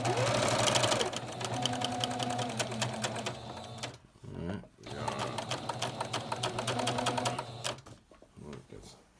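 A sewing machine stitching a quarter-inch seam joining t-shirt quilt rows, a loud close mechanical chatter running in bursts with a brief pause for a backstitch, and a voice talking over part of it.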